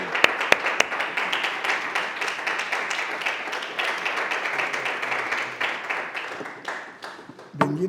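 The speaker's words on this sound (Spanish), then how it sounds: "Démosle un aplauso al Señor por cada uno." A church congregation applauding, dense continuous clapping from many hands filling the room for several seconds, with a few sharp individual claps standing out near the start and end.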